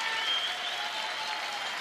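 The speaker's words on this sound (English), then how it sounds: "Canadian team being applauded off the ice." Sustained applause from a curling arena crowd as the Canadian team leaves the ice at a world men's championship, a steady wash of many clapping hands filling the space without a break.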